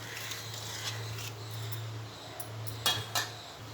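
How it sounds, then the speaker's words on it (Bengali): A utensil stirs a pan of freshwater giant prawn curry in boiling gravy. A low steady hum runs underneath, with two brief faint metallic clinks near the end. "আমি একবার লেড়ে দেবো।"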